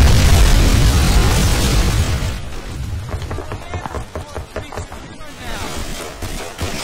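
A large explosion in the World War II shooter Call of Duty: Big Red One, a loud, rumbling boom filling the first two seconds, then fading into scattered crackling debris and smaller pops.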